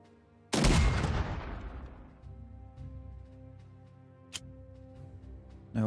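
Gunfire in the strategy video game Unity of Command II: one loud broadband blast with a long decaying rumble, a single sharp crack about four seconds later, and a final burst at the end, with no speech.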